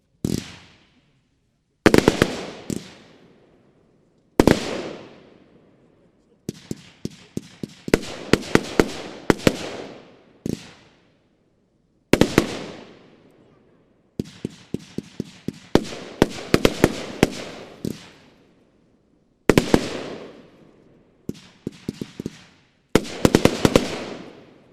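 A TNT Fata Morgana 25 mm 23-shot firework battery fires loud launches and crackling bursts outdoors, in single booms and rapid volleys with short pauses between groups, and no talking.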